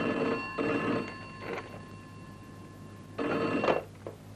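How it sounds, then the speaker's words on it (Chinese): An old-style telephone bell rings in two bursts, each with a couple of rings, separated by a quiet pause, moderately loud indoors in a police office with no talking. "徐姐，有没有电话？"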